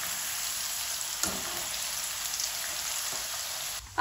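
Potato pieces frying in hot oil over a high flame give a steady, dense sizzle, close and even throughout, with a small clatter near the end.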